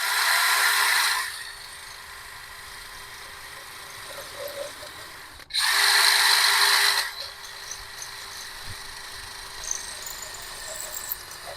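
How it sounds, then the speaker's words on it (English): A power drill bores two holes for mounting a solar-powered lighted address sign, heard as two loud, steady whirring bursts of roughly a second each, separated by a quiet stretch of faint background noise. "so there's our two holes drilled"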